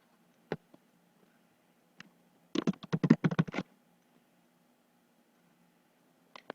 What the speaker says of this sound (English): You can see I just start typing in the person's name.